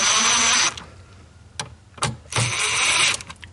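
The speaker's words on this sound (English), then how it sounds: "And go through with a screwdriver and give them a little snugger." A power screwdriver drives speaker mounting screws during a front speaker install in a diesel Jeep Gladiator, with two short whirring bursts separated by quieter gaps of faint clicks and handling noise.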